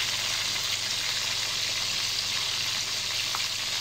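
Fish frying in a pan, a continuous dense sizzle and crackle of hot oil, close and steady with no talking.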